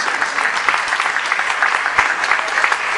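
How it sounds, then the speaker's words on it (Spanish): Applause at a 2014 press conference in Mexico for the cumbia group Caneo: steady, moderately close clapping from a modest crowd, with no speech. "regalémosles un aplauso a Tito."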